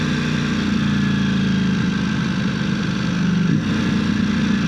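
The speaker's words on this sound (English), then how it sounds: "This motorcycle here, I think, is one of the most beautiful sport bikes ever made." Close, loud idle of a 2018 first-year narrow-body V4S sport motorcycle engine, a steady throbbing rumble with a brief dip and blip near the end.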